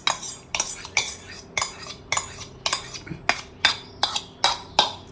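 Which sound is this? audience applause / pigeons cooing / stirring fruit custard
stirring fruit custard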